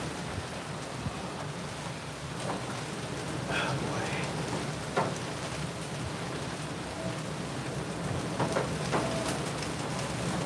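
Steady rain falls during Hurricane Melissa in Spanish Town, Jamaica, a continuous hiss of drops on surfaces with faint voices in the background.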